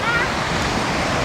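Batulantang waterfall roars as a dense, steady rush of falling water, continuous and fairly loud throughout.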